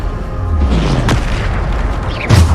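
In the video game Hogwarts Legacy, a Bombarda spell explodes with a deep, loud boom. A second blast follows about a second later, with heavy low rumble between them and no speech.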